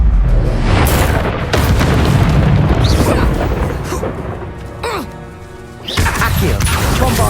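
Booming blasts from explosive Bombardo and Confringo spells in Hogwarts Legacy, repeated loud impacts and bursts under spoken incantations, with a brief quieter lull before another blast.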